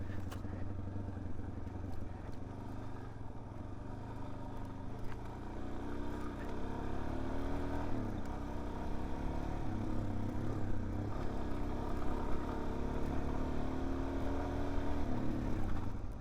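A Suzuki DRZ 400S, a big heavy dirt bike, weaves and switchbacks between trees on a wooded trail. Its engine hums steadily at a fairly low level while gear clatters and rattles faintly over the rough ground.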